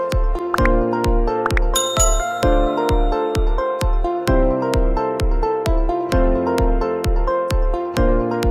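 A notification bell sound effect chimes over and over in a steady rhythm, loud bright dings struck repeatedly over a bed of sustained tonal music, with no voices.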